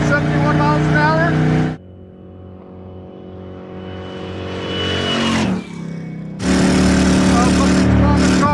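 A stock 350 small-block V8 in a Plymouth Road Runner runs up loud through the gears, then its note sags and wavers twice as it loses power, with people talking over it before and after.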